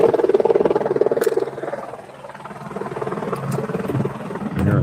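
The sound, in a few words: Lifeline medical helicopter flying overhead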